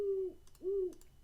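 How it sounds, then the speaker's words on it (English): Two long, mellow owl hoots from Minecraft (All The Mods 10), each a steady low tone lasting about a third of a second, separated by a short pause, clear and alone against quiet background. "we got sweet owl sounds"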